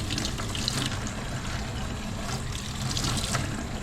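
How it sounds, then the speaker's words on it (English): Kitchen sink tap running steadily as peppers are rinsed for a lacto-fermented hot sauce, a continuous close watery splashing and trickling with no speech. "Hopefully my voice is going to come out over the sound of the sink."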